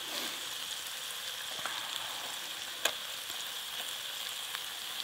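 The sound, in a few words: food sizzling while cooking on a Solo Stove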